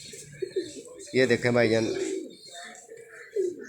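Pigeons kept as pets for sale coo close by in a low throaty burst, with someone speaking over and around the calls.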